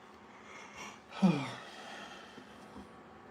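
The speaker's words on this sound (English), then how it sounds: "Sorry for all the yawns." A person yawns during a live stream, one drawn-out breathy yawn with a voiced rising tone in the middle, close and moderately loud over a quiet room.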